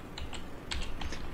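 Keys being picked up in the horror game Sinistria, a quick run of small, close metallic clicks and jingles in light irregular bursts.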